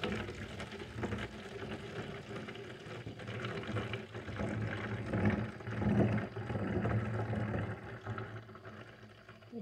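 Fresh goat milk pours into a jug in a wooded homestead setting, a soft continuous liquid trickle and splash that swells and fades over several seconds, with no talking.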